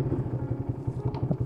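A warmed-up Loncin 125 motorcycle engine running close by with a steady, low, pulsing idle for a brief moment, no voices over it.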